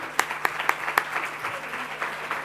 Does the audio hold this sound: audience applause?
yes